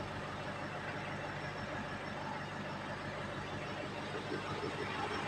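A Ford Ranger engine runs after an overhaul, a steady droning idle heard close and unbroken throughout.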